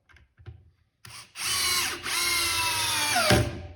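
A Metabo Powermaxx 12V drill/driver whirs at close range as it drives and countersinks a cabinetry screw. A few light clicks come first, then a sustained, loud high-pitched motor whine with a short dip partway through.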